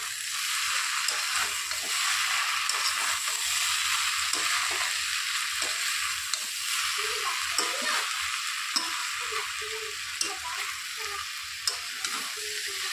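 Fried potatoes and jackfruit with prawns stirred in a pan over medium gas heat, a steady sizzle running throughout with repeated scraping stirs and light clinks, close and fairly loud, no voices.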